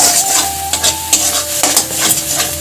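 Cauliflower leaves fry in hot oil in a pan, a steady close sizzle with a utensil stirring and scraping through it; no one talks.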